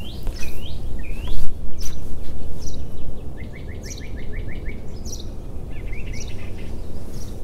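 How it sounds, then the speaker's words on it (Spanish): Several birds chirp and trill in quick bursts over a rustling, noisy outdoor background, with a run of rapid repeated notes midway. "me encanta escuchar los pajaritos en la mañana"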